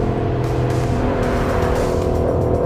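A 2018 Aston Martin Vantage drives with a loud, steady engine roar and a little tyre noise underneath it.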